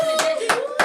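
Three sharp hand claps ring out at an even pace, close and loud, with a faint tone lingering between them.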